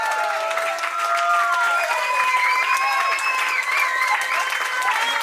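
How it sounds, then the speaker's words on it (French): A crowd applauds a performer at a music tent in Redon, steady close clapping throughout, with whistles and cheers rising above it. "on peut l'applaudir plus fort que ça"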